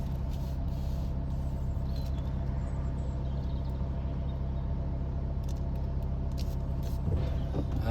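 A vehicle pulls onto the weigh scales at a green waste drop-off, its engine giving a steady low idling rumble throughout, with faint clinks and a slight knock near the end.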